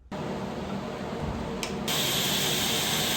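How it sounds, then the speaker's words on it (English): A belt grinder shaping wooden handles for hand-forged chisels gives a steady, loud, broadband hiss that runs without a break and gets brighter and harsher partway through as the wood bears harder against the belt. "This new grinder makes it so nice to grind wood."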